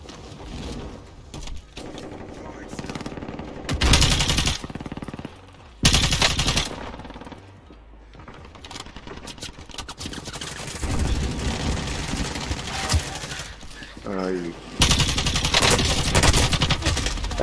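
Rapid automatic gunfire in a Call of Duty match with an AUG rifle, several loud bursts of sustained fire separated by quieter stretches of game ambience and distant shots.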